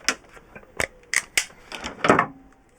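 Thin wire for a composting toilet fan in a campervan being snipped with cutters, several crisp close clicks and snaps in an uneven sequence, ending with a brief louder rustle.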